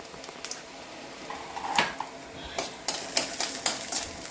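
Small chopped coconut pieces fry in ghee while a spoon stirs them against the pan, giving soft scraping and clinking in short bursts over a faint sizzle, with no talking.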